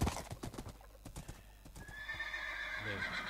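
Horse hooves clip-clopping in the Minecraft video game: a quick run of close hoof clops followed by a loud neighing whinny, with a voice talking faintly underneath.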